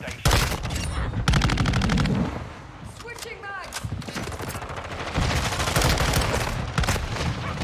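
Rapid bursts of M13C assault rifle fire in Modern Warfare 2, loud and close, with fast automatic strings broken by a brief pause and other in-game battle sounds, while a player talks over parts of it.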